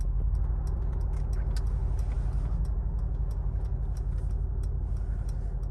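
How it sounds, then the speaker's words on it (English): A Mercedes car reversing into a parking space by itself under Parktronic control: a steady low engine hum with a soft, regular ticking throughout, heard from inside the cabin, no talking. "The car is going to start driving in on its own."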